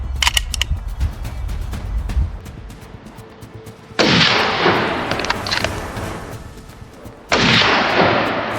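Two loud, sharp gunshot blasts during a wild boar hunt, each followed by a long rolling echo that fades away, with some faint clicks and rustling before them.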